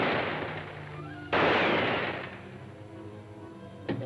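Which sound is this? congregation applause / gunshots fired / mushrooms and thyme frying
gunshots fired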